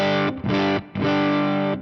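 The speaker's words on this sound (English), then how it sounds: "So maybe it's because I'm playing a Strat into it." A Stratocaster electric guitar played through an overdrive pedal: two long, loud distorted chords, the first cut off briefly before the second rings out, alone with no talk.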